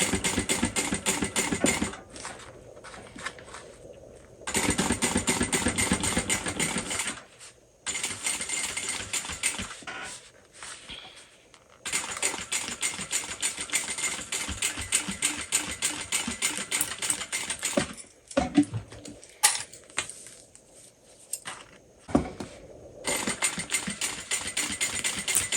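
A sewing machine stitches a seam on a crossbody bag in several long, fast, steady runs of rhythmic needle clatter, with short pauses and small handling clicks between them.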